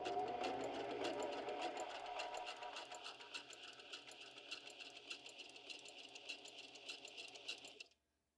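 Sewing machine stitching the binding of a junk journal, a fast steady mechanical whir and needle clatter running for several seconds close by, then stopping abruptly.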